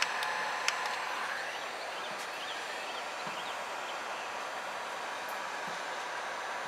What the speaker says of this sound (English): I've seen a lot of impressive things happen with heat guns.